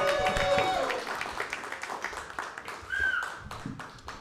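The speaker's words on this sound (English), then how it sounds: "Give her another round of applause" Audience applause and clapping fill a comedy club at Go Bananas for a comedian, a steady crowd roar with scattered whoops, chatter and a short whistle-like cry rising over it.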